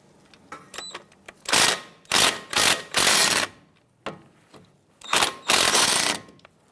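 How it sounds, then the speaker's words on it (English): Socket wrench on a 10mm bolt of a brake bracket on a 2000-2007 Ford Taurus, close ratcheting bursts with sharp clicks, several short loud spells of quick clatter separated by quiet gaps. "I'm going to use a 10mm socket."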